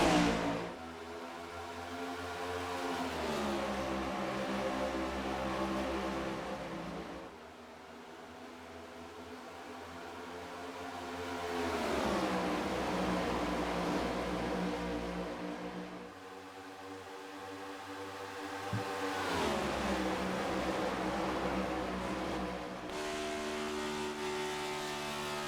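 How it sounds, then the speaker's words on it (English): Race cars lap Atlanta in iRacing, engines rising and falling in long repeated swells as the pack passes, a loud continuous roar with brief dips between passes and no talking. "we're going to shut up and just let you listen to the sounds of the cars"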